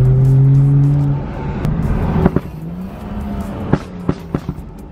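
A loud BMW 435i engine roars up close, starting with a deep steady drone, then revving and surging with sharp bursts as it accelerates.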